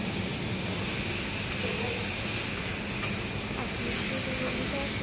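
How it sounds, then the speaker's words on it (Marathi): Onion fries in hot oil with a little salt, giving a continuous, even sizzle and hiss close by with no pauses. "कांदा टाकायचा थोडा, ती मीठ टाकायचं थोडं म्हणजे कांदा लवकर भाजला जातो तेलात."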